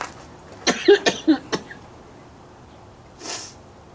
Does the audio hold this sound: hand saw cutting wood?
no